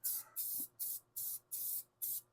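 Rust-Oleum caliper paint sprays from an aerosol can onto a brake drum of a 1976 classic car, six short, evenly spaced hissing bursts, close and loud, with no talk.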